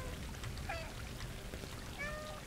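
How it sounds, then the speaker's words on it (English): A cat meowing in the game Stray, a couple of short faint meows over a steady pouring, running-water backdrop, with no talking. "it's left alt to meow"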